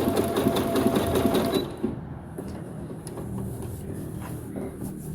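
A Brother CS6000XL sewing machine stitching a zigzag, a fast rhythmic whirring stitch run for under two seconds, then a quieter mechanical hum with small clicks after it stops.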